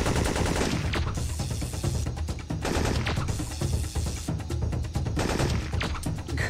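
Rapid, sustained bursts of retro video game gunfire rattle on loudly and nearly continuously, with short gaps between volleys like machine-gun fire.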